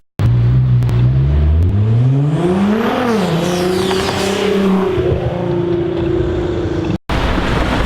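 A Nissan GT-R supercar drives past on a Düsseldorf street, its engine note loud and close, rising in pitch as it accelerates and then holding a steady roar before cutting off abruptly.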